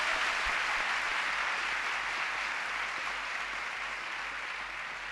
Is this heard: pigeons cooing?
no